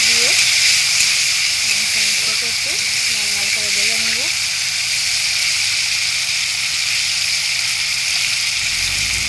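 Potato and paneer fry in oil in a wok with a steady, loud sizzling hiss that runs throughout. Someone talks briefly over it at the start.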